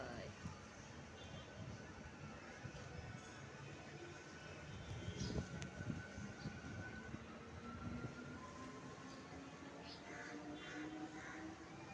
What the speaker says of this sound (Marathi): जवळ ट्रेन आहे आमच्या.